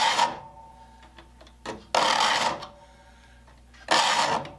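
Hand file rasping across circular saw teeth in three loud, close strokes separated by quiet pauses, with faint scrapes between them.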